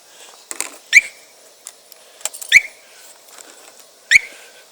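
A motorcycle alarm gives three short, sharp electronic chirps at even intervals, with faint clicks and handling noise between them.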